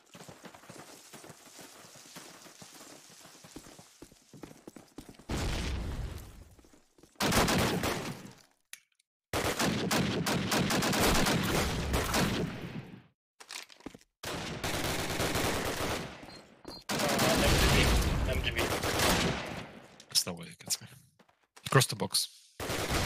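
Machine gun fire from an MG40 in a World War II video game bursts in repeated long rattling volleys across a night battle, with quieter gaps between, mixed with players talking.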